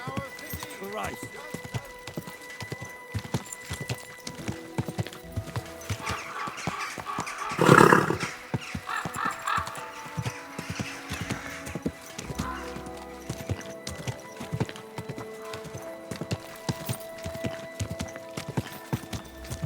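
Horse hooves clop steadily throughout, with a short, loud whinny partway through, set against background game music and ambient sound in Kingdom Come: Deliverance 2.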